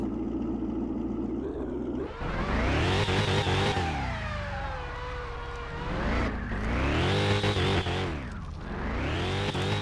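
A car engine in Car Mechanic 2021 revving up and down as an automatic gearbox shifts by itself, pitch climbing and dropping in repeated sweeps, loud and steady with no talking.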